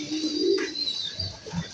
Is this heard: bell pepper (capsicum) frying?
no